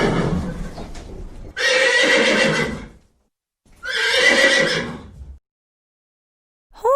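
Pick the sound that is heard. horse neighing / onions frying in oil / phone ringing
horse neighing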